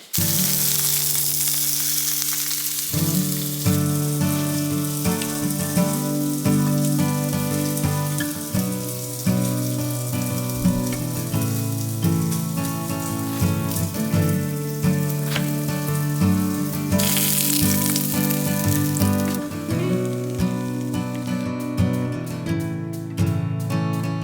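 A thin seasoned salmon fillet sizzles and fries in a hot pan, a steady dense crackling hiss that runs loud and unbroken throughout with no voices.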